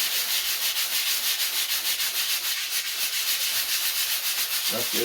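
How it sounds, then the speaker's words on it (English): Steady, continuous rubbing of sandpaper against a rough canvas surface, close and even in rhythm, with a brief spoken comment near the end. "you can see the powder, you know what I mean, the sanding grit coming off of it."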